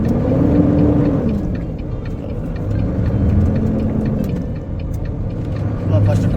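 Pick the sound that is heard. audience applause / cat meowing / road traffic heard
road traffic heard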